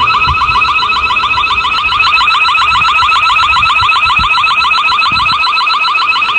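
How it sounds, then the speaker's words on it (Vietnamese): A loud electronic alarm wails continuously from an imported Japanese household device, a rapidly warbling high-pitched siren tone that repeats steadily without pause. "khi bấm còi báo động thì nó mình nghe tiếng hú anh em nha"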